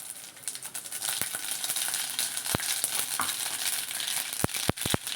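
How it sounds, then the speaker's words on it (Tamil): Mustard seeds sizzle steadily in a hot pan, a close, continuous frying hiss broken by sharp pops and crackles as the seeds burst, with no talking. "இதில் வந்து கொஞ்சம் கடுகு போட்டுக்கலாம்."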